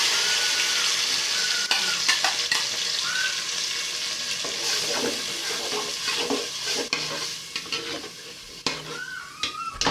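Onions fry in a pot with blended pepper and tomato, a steady close sizzle broken by repeated scrapes and clinks of a spoon stirring against the pot, with no talking.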